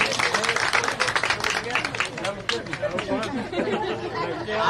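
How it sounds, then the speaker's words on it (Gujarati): Guests at Kartik and Khushbu's Haldi ceremony clap to welcome the couple, a dense, steady patter of many hands close by, mixed with lively crowd chatter throughout. "એકવાર જોરદાર તાળીઓ સાથે આપણે વધાવીશું કાર્તિક એન્ડ ખુશ્બુ"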